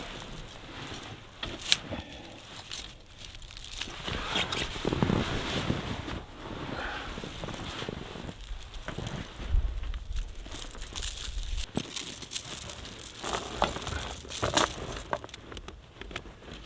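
Snow and ice chains are fitted onto trailer tires outdoors in winter, with metal links jangling and clinking in irregular bursts over steady wind noise.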